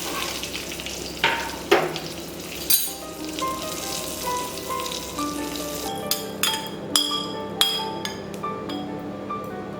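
Hot ghee tadka with chilies, hing and Kashmiri red chili powder poured over dal fry, a steady sizzle with clinks of utensil against pot scattered through, close and moderately loud.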